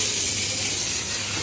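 Steam hisses steadily from a Platinum steam generator, a loud, even, continuous rush with no breaks and no voices.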